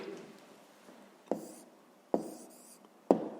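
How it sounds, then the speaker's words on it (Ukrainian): A pen scratches out a short maths answer on paper in three quick, sharp strokes spaced about a second apart, close and quiet against a still room. "записуємо тоді відповідь"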